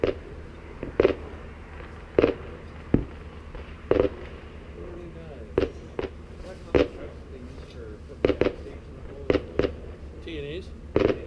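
Distant fireworks pop and boom in irregular single bursts, about a dozen sharp reports over a quiet outdoor background, with faint voices talking between blasts.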